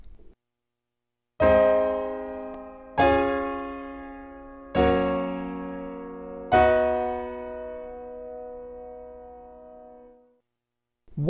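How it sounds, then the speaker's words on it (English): Four sustained chords in meantone tuning ring out one after another from a keyboard-like instrument, each struck cleanly and left to decay, the last held longest before fading into silence; no voices. "What you are hearing is an older tuning system called Meantone."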